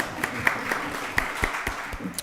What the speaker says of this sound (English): Give Ms. Smith a round of applause.